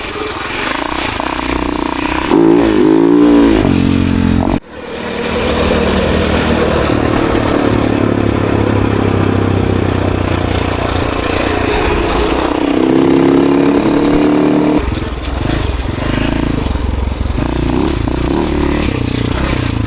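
A Husaberg 570 enduro motorcycle engine revs loud and close, with rough, clattering blips, a sharp dip and then a sustained roaring run with rising and falling pitch over about twenty seconds.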